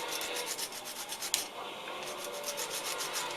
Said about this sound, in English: Glued a piece of sandpaper onto this. Looks like a stirring stick.